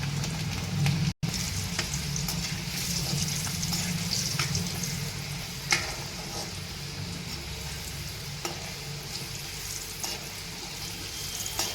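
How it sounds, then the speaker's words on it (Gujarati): Garlic cloves sautéing in oil with a pinch of asafoetida for a Gujarati vaseti bhaji, a steady close sizzle with a few faint stirring clicks and one brief dropout. "લસણની કળી આપણે બ્રાઉન કલરની થાય ત્યાં સુધી આપણે સાતળી લઈશું"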